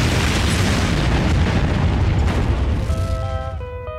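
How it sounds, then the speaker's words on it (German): A cartoon nuclear explosion rumbles as a loud, sustained roaring boom with dense low rumble, then fades into a ringing, tonal tail near the end. "Eine nukleare Explosion hat der Safe doch wohl sicher nicht überlebt."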